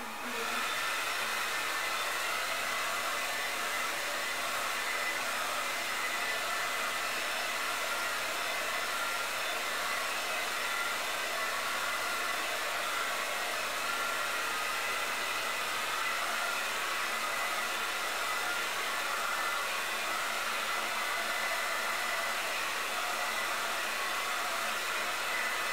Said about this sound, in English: Just do the same blow drying that I was just doing.